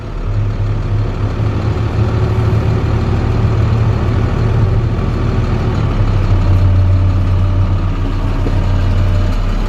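A 2010 International dump truck's diesel engine running under light throttle, a loud, steady low rumble close by with a slight rise in pitch midway and no breaks for the whole stretch.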